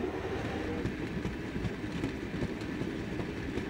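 A cartoon train pulls away and runs along the rails with a continuous low rumble and faint rhythmic clacking of wheels, steady and moderately quiet, without speech.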